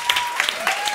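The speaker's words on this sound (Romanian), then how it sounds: "un rând de aplauze pentru Roxana" Studio audience applause for a contestant on a Romanian comedy show, a brief burst of many hands clapping, fairly loud and dense, with no speech over it.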